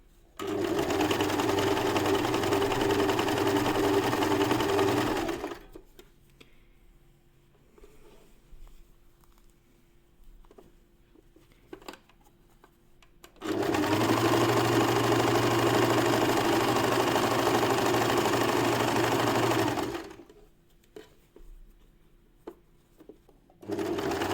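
A sewing machine stitches elastic onto swimwear fabric in two long steady bursts of fast whirring, separated by a quiet pause with small handling clicks, and starts up again at the end.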